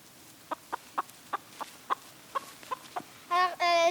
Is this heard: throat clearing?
no